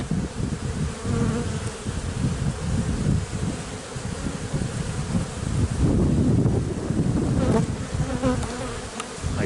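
A dense, steady drone of many honeybees buzzing close around hive frames, continuous throughout with slight swells in loudness and some rustling.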